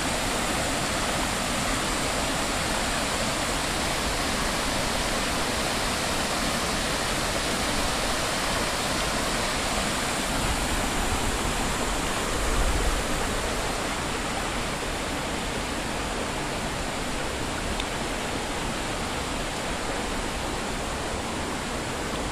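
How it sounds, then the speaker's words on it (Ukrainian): Steady, loud rushing water fills the whole stretch as a vehicle crosses a river on a mountain-pass road, a continuous broadband wash close by, with a brief heavier surge midway. "Переход через річку."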